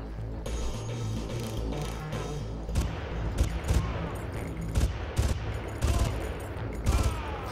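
Game gunfire in Far Cry, with a scoped rifle and other weapons cracking in irregular bursts over a low, steady backdrop of jungle ambience and music, shots spaced unevenly at moderate distance.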